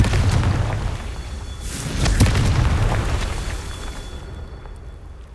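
Spell-blast explosions from the Confringo fire curse in the video game Hogwarts Legacy, a loud booming burst with a rumbling low tail that swells midway and fades, with no talking.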